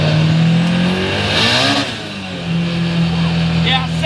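A modified Toyota Starlet sleeper, a 9000 RPM build making 400 horsepower, accelerates with its engine note rising and falling through a gear change, loud and close, with people talking over it.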